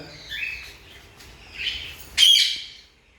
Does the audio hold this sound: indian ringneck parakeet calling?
yes